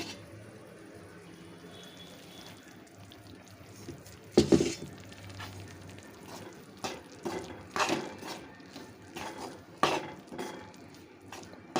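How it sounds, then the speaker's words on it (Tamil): Ragi flour is stirred and roasted in ghee in a pan on a low flame for ragi almond laddu, with a spoon scraping and clinking against the pan in irregular close taps after a quiet start. "இப்போ இந்த நெய்யில் போட்டு இந்த கேழ்வரகு மாவு வறுத்துக்கலாம்."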